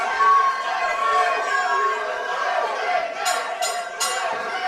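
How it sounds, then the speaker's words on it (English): Loud arena crowd at a K-1 style kickboxing fight between Juan Ortega Jr and Matthew Hickman, a steady roar of cheering and chatter filling the hall, with a few sharper shouts near the end. "The crowd going crazy."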